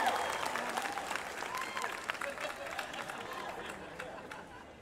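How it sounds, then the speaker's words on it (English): Graduates applaud at an outdoor commencement ceremony, and the dense, distant-sounding clapping from a large crowd slowly fades over a few seconds while voices murmur underneath. "Let the record show that is the largest applause I will get today."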